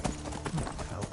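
Horse hooves clip-clop in Skyrim VR at Falkreath, a short burst of rhythmic, fairly close steps with a voice talking over them.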